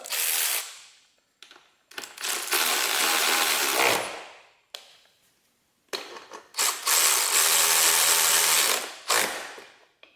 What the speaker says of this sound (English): Go ahead and tighten these up.